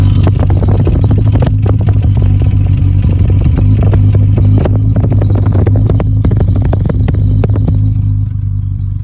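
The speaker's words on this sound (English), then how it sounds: "there's a good listen to the engine and the exhaust" A 1972 Triumph TR6 roadster engine idles loud and close through its twin exhaust pipes, a deep steady burble with rapid clattering pulses and no voices.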